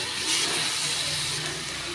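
Steady, close hissing sizzle of cashews, coconut and fruit frying in ghee for coconut milk ada payasam, continuous and even with no pauses.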